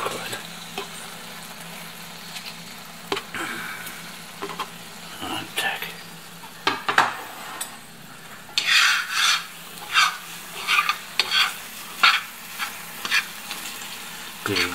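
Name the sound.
stirring pasta with flour gravy in a pan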